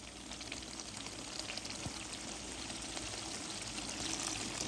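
Liquid is poured into a pan of egg and potato curry to make gravy, a steady close gushing pour over a faint sizzle, continuous for several seconds with no talking.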